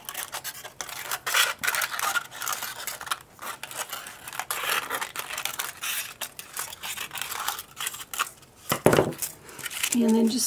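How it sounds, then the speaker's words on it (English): Scissors trim foil around a collage bird, producing close crinkly rustling and snipping, with a person talking throughout. "And we'll trim it all the way around."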